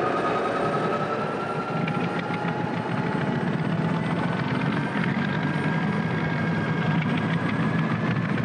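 A multi-engine aircraft drones steadily and loudly throughout, a continuous close engine roar with a rough, rhythmic texture and no pause.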